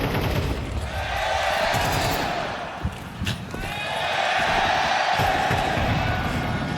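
Spectators at a CS2 esports quarter-final, FaZe versus sAw at PGL Cluj-Napoca 2025, cheer and roar in the arena, a broad crowd swell that dips briefly midway then rises again, mixed with in-game gunfire.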